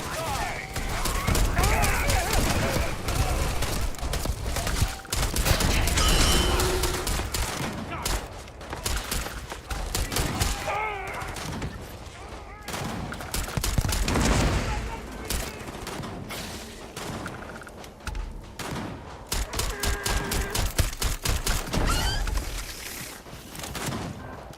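Gunfire in the Starfield video game, repeated bursts of shots throughout at close range, with voices talking over much of it.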